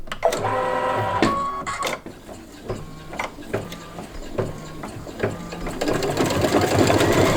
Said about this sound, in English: I'm just going to go ahead and stitch out the placement line for the hat